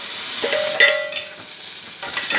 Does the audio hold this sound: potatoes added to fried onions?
yes